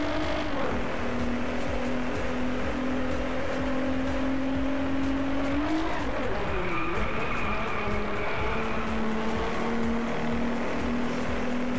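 A Nissan GT-R NISMO races in the Driveclub video game, its engine whining in steady rising and falling pitch through gear changes and corners, loud and continuous, with a voice speaking faintly underneath.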